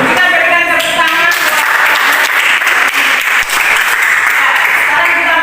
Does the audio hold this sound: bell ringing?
no